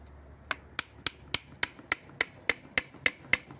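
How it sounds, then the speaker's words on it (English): Repeated metallic hammer taps on the cover of a Kubota ZD hydrostatic transmission during a teardown, about a dozen sharp, evenly spaced blows, close and alone. "So we're going to just tap on the cover now."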